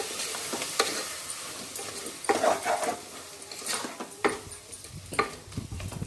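Garam masala being mixed into veg biryani in a pressure cooker, with irregular utensil scrapes and clanks against the metal pot over a light sizzle, some strokes louder and close up.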